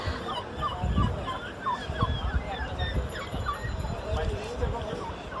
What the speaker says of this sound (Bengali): এখানে দেখতে পাচ্ছি তিতির মুরগির বাচ্চা